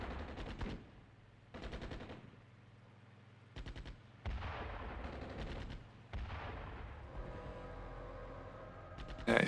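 Bursts of automatic gunfire in the wargame Armored Brigade II, several short sharp volleys separated by brief pauses, fairly faint and distant, with no talking.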